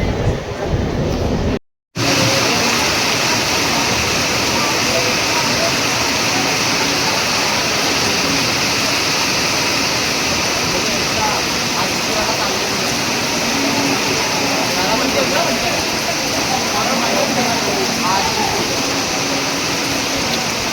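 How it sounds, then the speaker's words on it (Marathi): Steady, dense rushing noise of heavy rain pouring down outdoors at Vidyavihar railway station, continuous and loud, with faint crowd murmur mixed in. "पाऊस पण खूप पडतोय"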